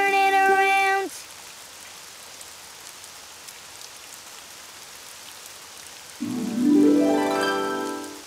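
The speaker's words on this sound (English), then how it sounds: "It's raining outside." Steady, soft rain patters outside in an animated cartoon, a faint continuous wash heard between short bursts of bright music at the start and end.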